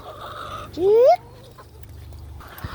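Backyard chickens waiting at a gate, one rising squawk stands out close by over soft background clucking, with a voice heard briefly.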